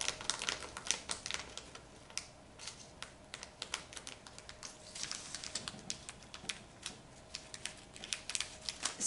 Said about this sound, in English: despite the fact that it's so thin, this plastic is very hard to cut